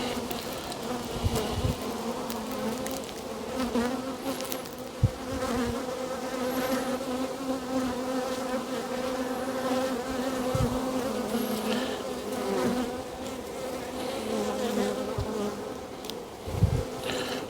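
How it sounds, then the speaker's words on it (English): Honey bees swarm around an opened hive at an apiary, a steady, close, continuous buzzing hum with a guard bee darting nearby, and no voices. "on my left hand side there's a guard bee that isn't happy with me"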